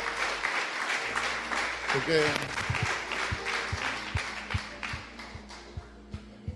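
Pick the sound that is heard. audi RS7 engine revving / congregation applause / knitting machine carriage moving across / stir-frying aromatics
congregation applause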